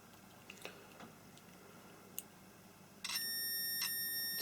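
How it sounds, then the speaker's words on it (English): A multimeter gives a continuity beep as its probes touch the ends of a wire, a sustained electronic tone that starts abruptly partway through after a few faint clicks, in a quiet room. "one end of the wire to each probe and we get a tone"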